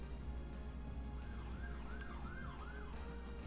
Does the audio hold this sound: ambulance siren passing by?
yes